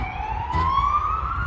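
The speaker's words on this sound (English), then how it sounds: "so you'll hear a lot of ambulances" Ambulance siren near a medical university in Gdańsk, a single rising wail heard steadily from a moderate distance with street noise underneath.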